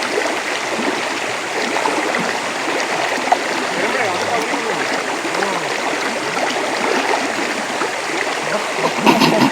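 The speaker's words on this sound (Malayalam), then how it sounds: "നല്ല ഒഴുക്കുണ്ട് ഇപ്പൊ" The strong current of the Achankovil river rushes in a loud, steady wash of flowing water close by, with faint voices mixed into the noise.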